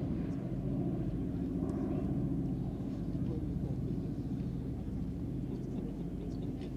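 A vintage Douglas C-47 Dakota in D-Day invasion stripes rumbles steadily at an air festival, its piston engine drone loud and continuous with faint crowd noise underneath.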